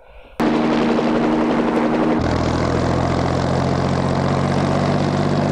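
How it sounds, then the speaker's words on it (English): A helicopter engine from the film Dog Day Afternoon starts abruptly and holds a steady, loud mechanical drone with a deep low hum throughout, with no talk over it. "That's a cool helicopter with a bobble so you can see everything."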